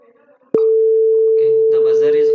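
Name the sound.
washing machine buzzer signalling program completed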